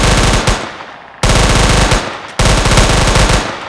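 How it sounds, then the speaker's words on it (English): Loud automatic gunfire from a 3D gun mod in Minecraft rattles in three long bursts, each starting abruptly with rapid, evenly spaced shots and trailing off slightly, close and dominant with no talking. "Now this gun, you can't actually just shoot it, you have to aim down the sight to shoot"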